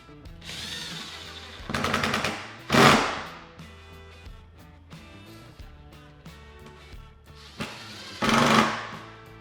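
A power driver whines in short bursts as Torx deck screws are driven into a table while setting up a SAC Bravo barrel vise, several separate runs with quiet gaps between them.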